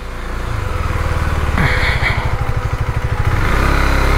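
A KTM Super Duke motorcycle engine rumbles loudly up close while being parked, idling with a quick throttle blip and a fast, pulsing exhaust beat before it settles back down.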